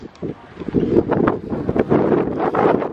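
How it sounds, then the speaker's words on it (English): Strong gusty wind in a Denver parking lot buffets the microphone with loud, rumbling, uneven blasts that rise and fall throughout. "that wind is terrible"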